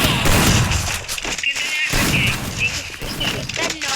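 Steady loud gunfire from a shooting video game: dense bursts of shots and booms keep going for the whole stretch, with short dips between volleys and a voice talking over part of it.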